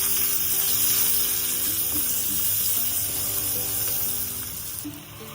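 Spices, salt, turmeric and chili powder, sizzling and frying in hot oil in a home kitchen, a steady dense crackle throughout with faint stirring, no talking.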